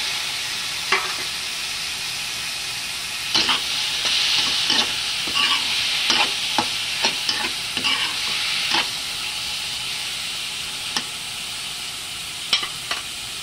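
Tomatoes going into a hot frying pan for a sweet and sour tilapia dish, a loud continuous sizzle close by with scattered scrapes and taps of the spatula as they are stirred.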